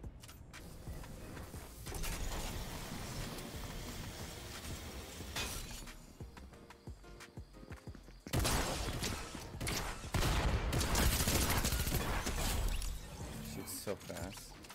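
A shotgun fires in rapid bursts in Fortnite Zero Build mode, sharp cracking blasts in quick clusters with mechanical clatter between them, loud and near, while a person talks over parts of it.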